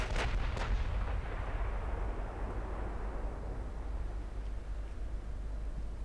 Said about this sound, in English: only A and B turrets were firing.